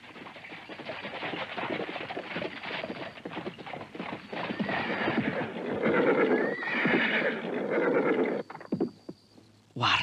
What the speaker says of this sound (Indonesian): Aku mendengar suara kereta kuda mendatangi pondokku ini.